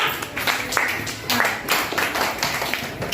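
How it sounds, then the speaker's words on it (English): A classroom group claps for Chandrakala at a toy celebration in a school, with scattered, uneven hand claps of moderate loudness lasting a few seconds. "Claps for Chandrakala."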